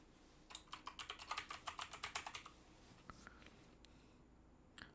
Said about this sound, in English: I'm typing it in the wrong area.